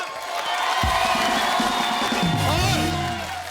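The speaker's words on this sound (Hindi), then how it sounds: "तो अब हो जाए खुल के तालियां" A studio audience at the Kapil Sharma comedy show cheers and claps loudly, with excited shouts and whoops over a dense crowd roar throughout the short burst.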